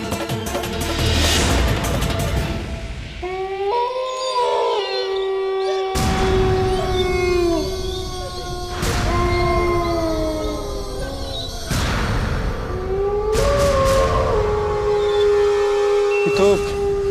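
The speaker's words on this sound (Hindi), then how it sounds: "हवेली के दरवाजे पे कुत्ते रो रहे हैं।" Several dogs howl outside a mansion door in long, wavering, mournful cries that rise and fall in repeated overlapping bouts, loud and close, with sharp bursts of noise between them.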